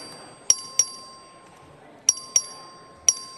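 A clerk rings the voting bell in a legislative chamber, three pairs of bright, ringing metallic strikes with short decays over quiet room tone.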